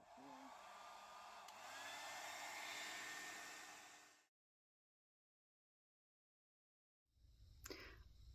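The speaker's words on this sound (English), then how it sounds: "I'm really hoping that my hairdryer is going to reach." A hair dryer blowing over coffee- and rust-dyed paper, a loud steady whooshing drone that shifts pitch slightly, then cuts off into silence before a brief burst of handling noise.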